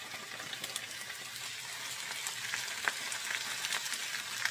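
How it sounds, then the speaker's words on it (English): Mixed cut vegetables frying in a couple of tablespoons of olive oil in a pan, a steady close sizzle with crackling pops throughout. "Going to fry these up till they're soft"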